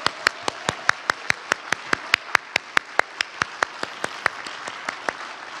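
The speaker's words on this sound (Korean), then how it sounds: "우리 다시 한번 우리의 마음을 담아 감사의 박수 드리겠습니다" Steady, evenly spaced claps ring out at an anniversary celebration event after a musical performance, about two dozen sharp hand claps in a regular rhythm over a quiet room, with no talking.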